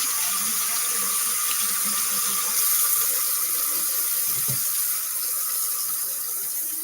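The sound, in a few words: tap water running while washing hands at sink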